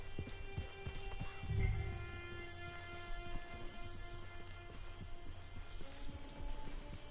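Horse hooves clip-clopping at a run in a video game, with a steady rhythm under a sustained tonal music bed and a brief low thud near the start.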